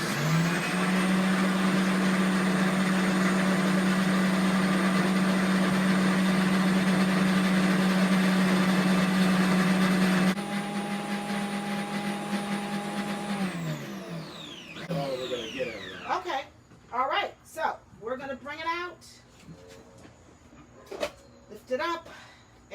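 A Margaritaville Bahamas frozen drink blender mixes strawberry daiquiri with a loud, steady motor whine that winds down midway and stops, followed by voices talking.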